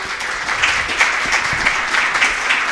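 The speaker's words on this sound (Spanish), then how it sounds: "les brindamos un nuevo aplauso." Applause fills a hall at a professional seminar on occupational safety and hygiene law: a dense, steady wash of many hands clapping, loud and continuous throughout, with no talk over it.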